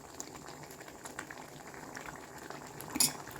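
Chettinad-style yam pachadi with tamarind simmering in a pot, a soft steady bubbling with a brief louder clatter near the end, no voices.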